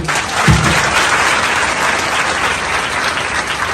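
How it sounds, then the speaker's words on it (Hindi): Loud, dense audience clapping at a felicitation ceremony honouring a DIG, sustained and close for the whole stretch, with a brief low thump near the start. "जोरदार ताली"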